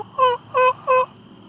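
Three rapid gobbling bursts from turkeys, evenly spaced and fairly close, over a faint low background rumble at a pond.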